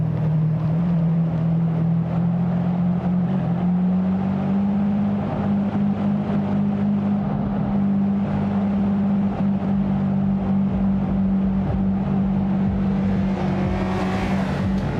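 A car engine in Forza Horizon 3 held at a low, steady RPM, a loud constant droning hum that barely shifts pitch, rising slightly near the end with a brief whine, no talking.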